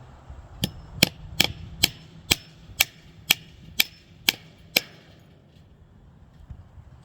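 Hammer driving fence staples over wire into posts, about ten sharp evenly spaced strikes heard close and alone, then quiet outdoor air.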